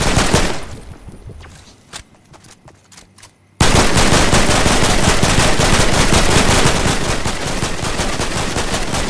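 Gunfire in Fortnite: a few scattered shots over a quiet stretch, then an abrupt switch to dense, loud, continuous rapid automatic fire that keeps going to the end.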